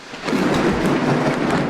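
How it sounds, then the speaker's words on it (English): A thunder sound effect in a Thor motion comic, a loud, deep rumble that swells within a fraction of a second and rolls on steadily with a faint rain-like hiss underneath. "another thunderous attack struck Buri square and true."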